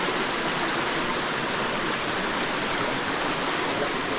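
Water rushes steadily through a channel in a Konkan forest on its way to a village, a constant, full broadband wash with no pauses, close and fairly loud, and no voices.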